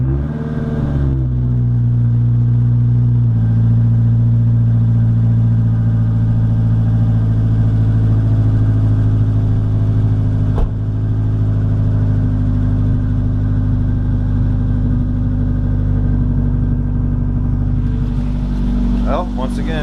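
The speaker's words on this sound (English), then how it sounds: "let's get a cold start on the Focus" A Ford Focus engine turns over on a cold start and catches, then settles into a loud, steady idle close to the microphone, with one brief click partway through.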